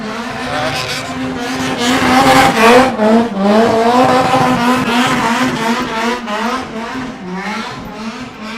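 A car engine roars at high revs at a motor show while tires squeal and screech continuously, loud and close, with a rough, smoky skidding texture.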